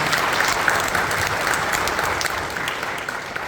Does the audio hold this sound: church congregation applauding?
yes